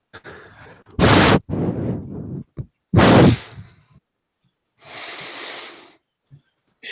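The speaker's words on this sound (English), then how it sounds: "I don't want to have your breathing down my earphone." Heavy breaths blown straight into a microphone during a live chat, two sharp loud bursts followed by trailing exhales and a softer, longer breath later, with near-silent pauses between.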